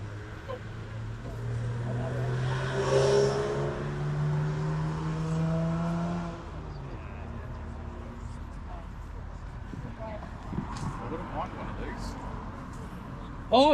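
A 1995 Fiat Punto GT engine revs at an outdoor vintage and classic car show, rising and holding for a few seconds before easing back to idle amid crowd noise and talk.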